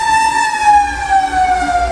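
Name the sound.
fire truck siren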